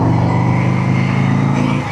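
Harley-Davidson Street Bob 2026 motorcycle engine rumbling with a deep pulsing beat as the throttle is barely twisted, loud and close for a brief steady stretch with no talk.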